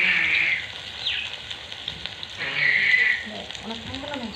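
Chicken frying in a home kitchen pan, a soft hissing sizzle that swells and fades, with a few clinks and quiet background voices.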